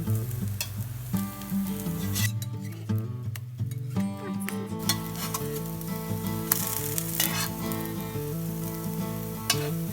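Paleo ketogenic pancakes sizzle and crackle in a frying pan, a continuous close frying hiss under a steady musical backing, with no talking.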